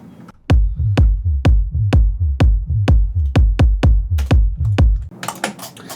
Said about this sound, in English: this is the kick and the bass together